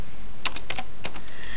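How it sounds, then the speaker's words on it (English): Rapid bursts of keystrokes on a computer keyboard while entering switch console settings, about six or seven close, crisp taps in quick irregular rhythm with no talking. "we're going to type in line console 0, password let me in"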